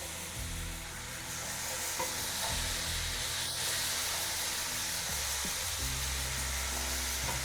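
Strained black chickpeas hit a hot pan in a home kitchen and sizzle steadily, with a continuous frying hiss and occasional stirring scrapes, fairly loud and close.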